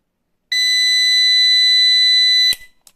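A Schneider UPS alarm buzzer sounds one piercing, continuous high-pitched electronic tone for about two seconds, then stops abruptly with a click.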